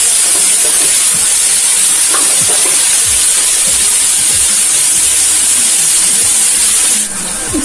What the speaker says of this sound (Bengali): এখন ঝিঙ্গে আলুগুলোকে আমি হালকা ভেজে নিচ্ছি।